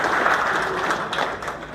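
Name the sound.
audience applause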